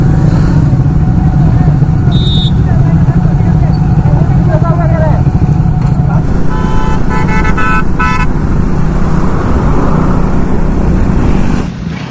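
A Triumph Speed 400 motorcycle rides during a Distinguished Gentleman's Ride in Agartala, Tripura, with a loud, steady engine roar and brief horn toots, while a voice speaks over it.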